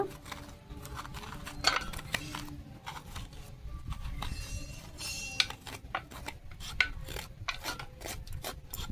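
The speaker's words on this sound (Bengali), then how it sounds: "এই চামচ দিয়ে এই কুমড়োর দানাগুলো আমি বের করে নেব" A metal spoon scraping seeds and stringy flesh out of a pumpkin, giving close, soft rasping and rubbing strokes with a few sharper scrapes, faint and irregular.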